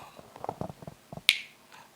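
A single crisp finger snap rings out sharply near the middle of a short stretch, preceded by a few soft low thuds and taps, with quiet room tone around it.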